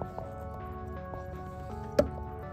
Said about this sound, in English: Things dripping down there.